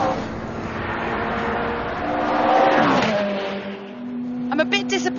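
Ferrari F430 Challenge race car engine accelerating, a loud rising and falling engine note with harmonic revving tones that swell mid-clip, then drop before short bursts near the end.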